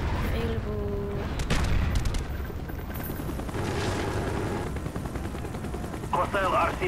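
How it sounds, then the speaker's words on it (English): Dense, rumbling barrage of napalm strike explosions and gunfire from Call of Duty Black Ops fills the scene continuously, with booms and crackling fire layered under faint game voice chatter. "Friendly napalm strike on the way"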